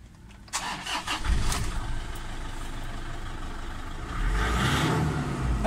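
A Toyota Innova diesel engine cranks briefly and catches, then settles into a steady, rough idle that grows a little louder toward the end, heard close by with no talking.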